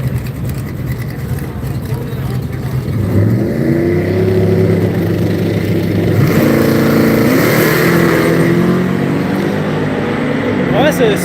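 A small Isuzu pickup truck at a Sick Week drag race in Gainesville, Florida roars as it accelerates down the strip, with rising engine pitch, while an announcer talks over the loud engine noise.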